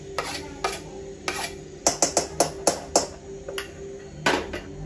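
Boiled, mashed potatoes and roasted ground peanut powder mixed for sabudana vada: a run of sharp, rhythmic taps and scrapes of a spoon against a bowl, close and fairly quick, with pauses between strokes.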